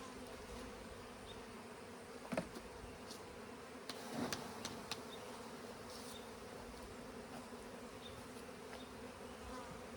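Honeybees buzz on a hive frame, a faint continuous droning hum with a few sharper clicks and bumps of handling mixed in.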